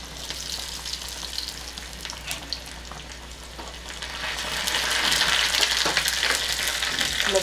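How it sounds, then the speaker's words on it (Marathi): Crushed garlic and green chili sizzle in hot oil, a steady crackling hiss that swells louder midway and holds, with occasional sharper pops and no voices. "आता या तेलामध्ये मी हा जो ठेचलेला लसूण आहे तो घालते आणि मिरची घालते"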